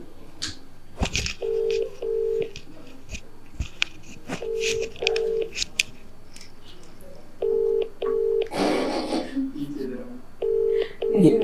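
A phone call placed on loudspeaker produces short paired electronic tones that repeat every few seconds, close and clear, with people talking and moving nearby between them.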